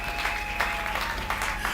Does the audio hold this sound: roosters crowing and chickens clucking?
no